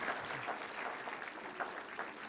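Audience applause at the closing valedictory ceremony of the World Health Summit Regional Meeting 2025: a steady, fairly soft wash of many hands clapping, evenly sustained from start to end with no voices on top.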